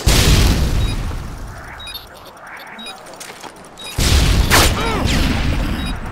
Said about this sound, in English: the stun grenade